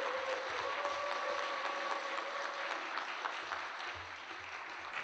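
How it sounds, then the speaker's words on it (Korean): An audience at a church gathering in Korea breaks into steady applause, a thick wash of clapping that holds for several seconds and then tapers slightly near the end. "큰 박수 부탁드립니다."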